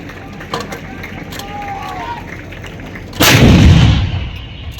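An M777 ultra-light howitzer fires once with a loud, booming blast that rolls on for about a second before fading, after quieter background voices and outdoor noise at a demonstration in Nashik.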